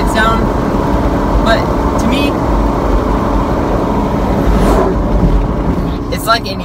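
Steady broadband road roar and low drone inside a truck on mud terrain tires cruising at 70 mph, continuous and fairly loud beneath someone talking over it.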